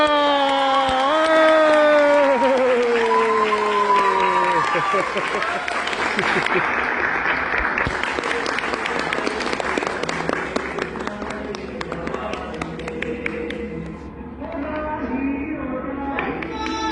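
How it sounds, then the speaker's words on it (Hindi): Audience applause and cheering erupt after a Hindi stage monologue titled Safalta, a dense, sustained wash of clapping with voices mixed in near the start that slowly thins toward the end. "तालियां"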